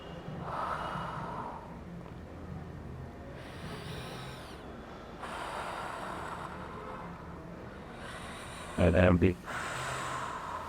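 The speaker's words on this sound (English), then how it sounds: "inhaling and exhaling out from the mouth" Breathing in and out through the mouth during an ankle fascia exercise, several soft breathy bursts recurring at a slow, steady pace, close and moderately quiet, with one sharper, louder snort-like exhale near the end.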